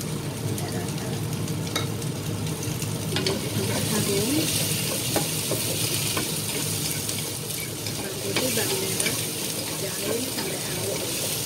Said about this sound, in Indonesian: Diaduk sampai rata deh.